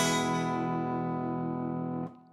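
A counterfeit Chinese-made Gibson electric guitar rings out a single sustained, somewhat distorted note or chord for about two seconds before being abruptly cut off; quiet and alone.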